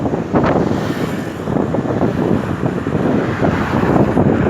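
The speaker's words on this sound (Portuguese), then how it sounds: "Dá uma olhada no vento." Strong wind gusts buffet the microphone with a loud, steady roar and rumble that holds for several seconds with slight surges and no voices.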